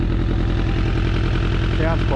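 A 2004 Suzuki Katana motorcycle engine idles steadily up close after warming up, with an even, low pulsing beat that holds constant and a brief voice near the end.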